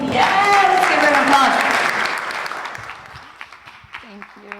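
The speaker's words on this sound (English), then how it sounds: "applause" An audience bursts into cheering and steady applause as a speaker, Maggie K, is welcomed to the stage; excited voices rise over the clapping at first, then the applause thins and fades into scattered claps.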